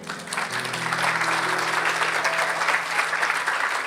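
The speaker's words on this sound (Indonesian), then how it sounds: "Kasih tepuk tangan untuk Tuhan." A church congregation claps steadily throughout, a full and even wash of applause, while sustained musical tones hold underneath.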